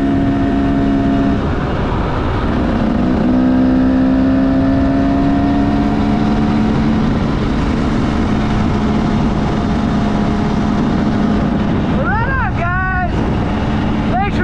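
A 125cc dirt bike engine drones loudly and continuously on a singletrack trail in the Rico, Colorado backcountry, with heavy wind buffeting and a rider's voice talking over it.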